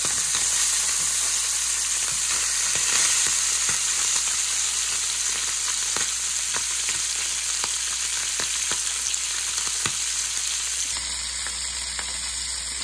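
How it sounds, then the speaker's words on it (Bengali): Fish frying in a pan for a home-style curry, a steady loud broadband sizzle with crackling pops running throughout, no one speaking. "মাছগুলো ভাজি করে হয়ে গেছে"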